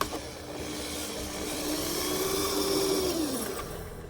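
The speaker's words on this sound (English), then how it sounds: "I was basically drilling through foam, cork and foam." A drill whirs steadily through cork and foam, its pitch rising then dropping as the bit slows near the end, close and continuous.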